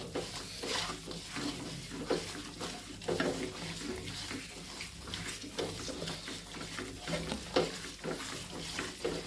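Raw chicken pieces are mixed by hand with two cloves and salt in a bowl, making continuous wet squelching and stirring sounds with small clinks, close and steady, with no voices.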